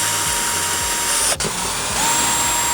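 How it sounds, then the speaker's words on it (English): A power drill bores the four mounting holes for a backup camera on a Sprinter van, giving a steady, loud whine with a brief dip partway through before it picks back up. "now we just have to drill the 4 supporting holes"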